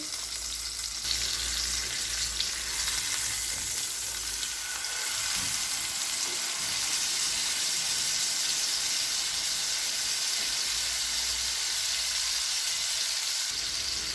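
Fish sizzles steadily on a hot tawa over a medium-to-low flame after being flipped. A continuous hiss and crackle runs throughout at a fairly even level, with no talking.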